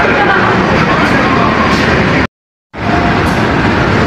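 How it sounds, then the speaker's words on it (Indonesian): Serayu long-distance passenger train from Purwokerto pulling into platform 7 at Jatinegara station during rain, a steady loud broadband rumble of rolling stock and rainfall, cut by a brief silent gap before resuming. "Kereta api Serayu masuk jalur 7 dari stasiun Purwokerto tujuan akhir stasiun Pasar Senen via Kiara Condong."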